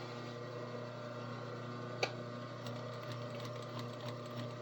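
A sewing machine stitching a long-stitch seam with lighter thread, a steady close mechanical hum with faint ticking and one sharp click partway through.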